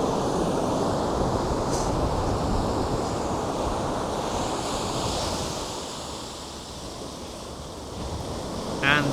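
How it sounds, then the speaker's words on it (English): Rough sea surf on Hakodate Bay makes a steady, loud broadband roar with heavy wind rumble, continuous throughout with no clear individual wave breaks. "The sea looks a bit rough,"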